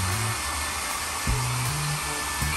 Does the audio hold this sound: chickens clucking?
no